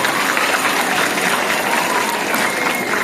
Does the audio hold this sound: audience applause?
yes